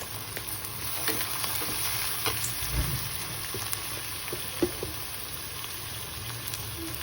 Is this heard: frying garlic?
yes